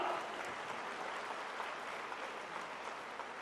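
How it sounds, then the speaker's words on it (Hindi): Steady crowd applause, a dense wash of many hands clapping continuously at moderate volume, with no voices standing out. "भरपूर तालियां एक दफा फिर"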